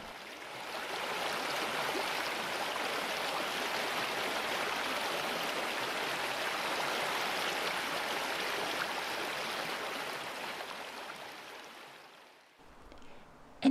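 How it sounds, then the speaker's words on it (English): Water flows in a stream with a steady, soft rushing babble that holds even and unbroken for several seconds before fading out at the end. "The sound of water flowing."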